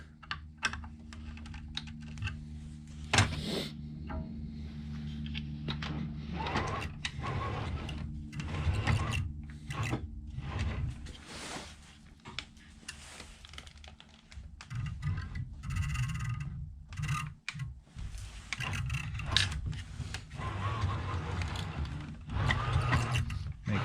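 Axis of a BobsCNC Evolution machine with a prototype belt tensioner being slid back and forth by hand, rapid clicking and rattling mechanical sounds with rolling rumbles, close and fairly steady, without speech.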